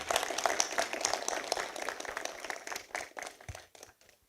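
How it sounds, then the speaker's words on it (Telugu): An audience claps together on request at a speech event, a dense burst of applause that rises and then thins out over a few seconds. "అందరూ చప్పట్లు కొట్టిన ఒకసారి."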